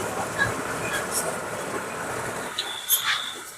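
Train noise at Cuttack railway station, a steady rumbling roll with faint clatter and a couple of brief high squeals or horn tones near the end.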